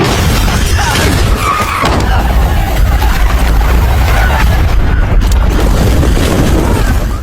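Dense, loud action-film mix as a car is set ablaze, with tire skids, roaring engine and heavy booming crashes running continuously, with no clear pauses.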